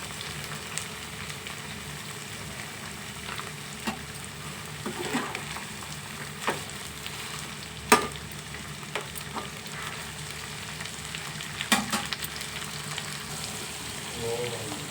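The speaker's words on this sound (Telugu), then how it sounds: "కొంచెం బాగా వేయించుకోవాలి" Pointed gourd (potol) pieces frying with salt in a pan, a constant close sizzle broken by occasional clinks and scrapes of stirring, with no talking.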